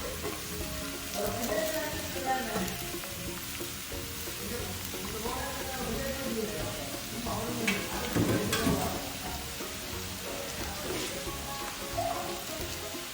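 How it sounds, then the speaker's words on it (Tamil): Chopped vegetables, including leeks and cabbage, fry in oil for mixed fried rice, giving a steady close sizzle with occasional stirring clatter and scraping. "ஸோ இந்த வெஜிடபிள்ஸ் எல்லாம் ஆட் பண்ணி வெஜிடபிள்ஸை ஃப்ரை பண்ணுவோம்"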